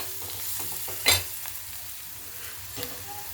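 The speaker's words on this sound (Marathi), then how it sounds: "हे थोडंसं मी मिक्स करून घेत आहे" A spoon stirs turmeric, coriander and cumin powder in a hot pan, giving a soft, close sizzle with light scraping strokes and a sharp clink of utensil against metal.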